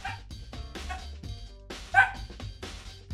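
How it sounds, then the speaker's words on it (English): Dogs bark and yip in quick, uneven bursts, fairly close and loud, with a sharp peak around the middle, some whimpering between barks. "why are my dogs barking?"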